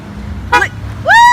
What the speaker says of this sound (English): Car with a guy honked